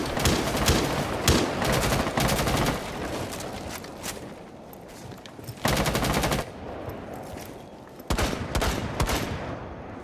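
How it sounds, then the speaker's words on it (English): Rapid bursts of automatic gunfire in Rainbow Six Siege on the Chalet map, several loud rattling volleys separated by short gaps, close and continuous. "They're definitely shooting."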